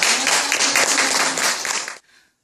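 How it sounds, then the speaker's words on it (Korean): A church congregation applauds a student preacher during a youth service, dense steady clapping from many hands filling the room for about two seconds before cutting off abruptly. "격려하는 뜻을 박수로 맞춰주겠습니다"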